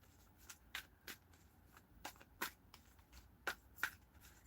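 A deck of cards is shuffled in a quiet room, with several short, crisp riffling bursts spaced irregularly apart, close and soft.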